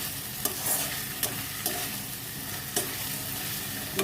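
Spices with a splash of water stirred in a frying pan: a continuous close sizzle broken by a few sharp scraping strokes of a spoon against the pan, no voices.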